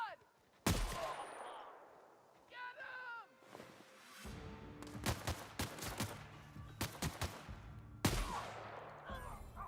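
Gunfire bursts from a video game, sharp shots and rapid volleys sounding in clusters, mixed with game effects and a person talking over the action.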